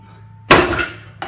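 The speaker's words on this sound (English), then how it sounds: "I'm going to take a very heavy hammer." A very heavy hammer strikes a storm-resistant fireproof wall, one loud, sharp impact with a short ringing decay, followed by a second, lighter knock just after.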